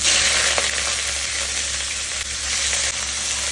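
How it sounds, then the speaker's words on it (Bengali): Small chicken pieces frying in hot oil in a wok, a loud continuous sizzle close by with occasional faint stirring clinks, no voices. "এবার কড়াইতে তেল দিয়ে এই ছোট ছোট পিস করে রাখা চিকেনগুলো দিয়ে নেব"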